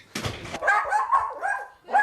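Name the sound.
dog barking as family comes home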